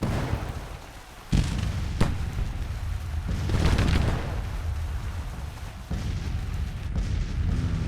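Cannon fire in a Civil War strategy game: a few heavy booms at intervals, one sharp blast early and others rolling and distant, over a constant dull rumble with no talk.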